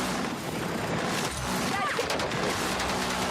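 Minigun fire in Battlefield 6, a dense, unbroken roar of rapid shots that fills the whole stretch at steady loudness, with voices talking over it.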